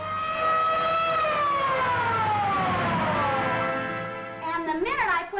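A wailing ambulance siren from a 1938 film, loud and close, its rising and falling tone sweeping for several seconds before breaking into faster warbles at the end.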